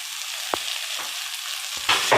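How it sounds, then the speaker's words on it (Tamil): Onions, mint and coriander fry in a pan with a steady, close sizzle, broken by a few brief utensil scrapes and taps. "வெங்காயம் நல்லா வதங்கின பிறகு புதினாவையும் கொத்தமல்லியும் சேர்த்துக்கலாம்."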